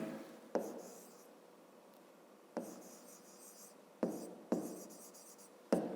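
Someone writes out a fifth-grade math equation. Quiet scratchy strokes are broken by several sharp taps as the writing tool touches down, all close and faint in a hushed room.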